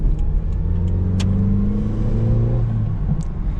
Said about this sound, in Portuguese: eu tava ouvindo o motor funcionando